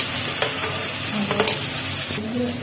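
Tomato frying in oil in a pan for tadka, a steady close sizzle broken by a few sharp scraping stirs of the spatula.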